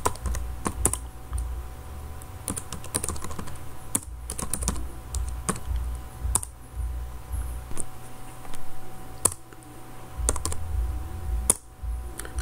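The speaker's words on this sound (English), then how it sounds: "allow me to type the names" Names being typed into a Microsoft Excel 2019 spreadsheet on a computer keyboard: close, steady runs of light key clicks with brief pauses and a few sharper, louder keystrokes, no voices.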